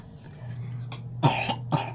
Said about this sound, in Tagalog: May ubo ang bibi namin.